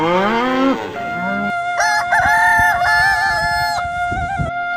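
On a farm, a buffalo's drawn-out low moo opens, followed by a rooster crowing loudly and other fowl calling nearby, with no talking.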